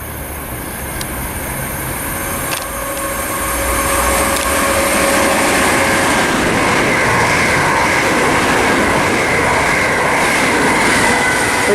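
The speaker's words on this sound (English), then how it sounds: "final train of this video is a passing service from Glasgow to Edinburgh" A Glasgow-to-Edinburgh passenger train passes through Linlithgow station without stopping, its rumble and wheel clatter building to a loud, steady roar with faint squeals from the rails.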